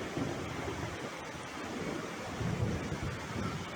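Heavy monsoon rain in coastal Karnataka pours as a dense, steady roar, with a deep low rumble that swells slightly near the end. No voices are heard.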